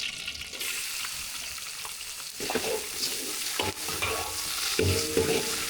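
Steady sizzling of garlic frying in hot oil, close up, with stirring scrapes and clinks of a utensil against the pan.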